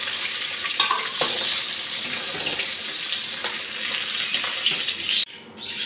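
Lentil dumplings (dal bori) fry in a pan with a steady, loud sizzle and crackle, punctuated by a few stirring scrapes, ending with a brief quieter moment.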